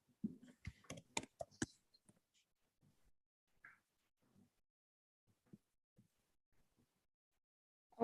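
A computer keyboard clatters in a quick burst of closely spaced keystrokes, followed by scattered faint clicks and sparse taps. Close, in a quiet room with no talking.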